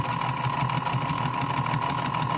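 A vintage electric mixer motor runs loud and steady at close range, a constant whirring hum with a faint rhythmic pulse throughout.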